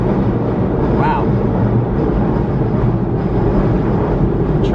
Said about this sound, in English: Train is loud, isn't it?